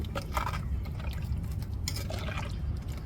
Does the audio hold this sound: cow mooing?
no